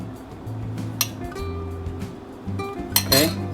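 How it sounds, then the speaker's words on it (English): Utensils clinking against a bowl or dish while vinaigrette is mixed for a watermelon and sweet pepper salad, several light metallic taps and clinks over a low background hum. "then here we mix our vinaigrette and we drop it on top"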